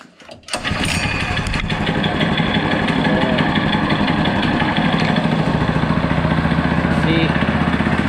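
A small gasoline engine on a homemade track sled pulls over with the choke on, catches after a brief cough, then settles into a loud, steady, close-up idle that runs on continuously.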